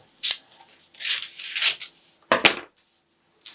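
Scissors cut apart paper sleeve pattern pieces in a series of close, crisp snips and rustles, with a sharper double snip near the end before a short silence.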